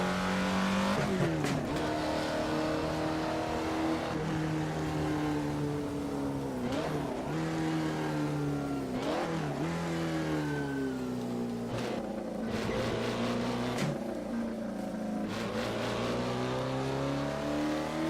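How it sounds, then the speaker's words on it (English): Alfa Romeo 33 Stradale engine in Assetto Corsa, a steady loud drone that repeatedly sags and surges as revs dip and recover, with brief sharp tire-scrub bursts scattered throughout and no voices. "The car kind of bogs down and surges forward again."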